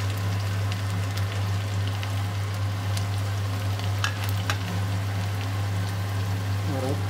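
Ginger and green chilli sizzle in a pan of hot oil for an aloo methi sabzi, a soft, steady frying crackle with a low hum underneath and occasional stirring clicks.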